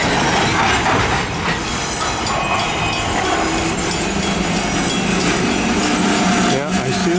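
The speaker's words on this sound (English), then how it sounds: "Train number 583 is the London to Paris local." A CN freight train led by locomotives 4908 and 4902 rolls past close by with steady, loud rumbling and clattering wheels, with occasional metallic squeals.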